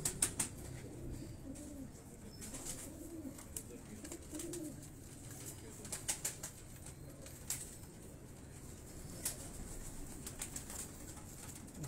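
Mixed-breed coloured pigeons on a Lahore rooftop coo softly and continuously, with occasional wing flaps and faint bird calls over a low background hum.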